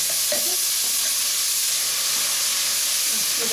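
Garlic-ginger paste sizzles in hot frying oil while being stirred for a ridge gourd (tori) curry, a close, steady bright hiss that holds evenly throughout with no voices.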